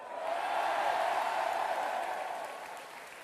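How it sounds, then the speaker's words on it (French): Sustained audience applause at Emmanuel Macron's political speech after the first-round election results, a dense, steady clapping that swells quickly, holds loud and fairly even, then eases slightly toward the end. "Merci à vous de les avoir tous et toutes applaudis à l'instant."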